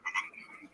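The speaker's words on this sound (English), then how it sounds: "I'm hearing crickets and frogs." Two quick croaks from a frog outdoors at night, close and moderately loud, fading into a soft chorus of insects.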